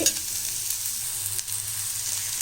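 Onions sauté in a pan for a Tamil pottukadalai kurma, giving off a steady, soft sizzle with a faint crackle that stays even throughout and has no voices over it.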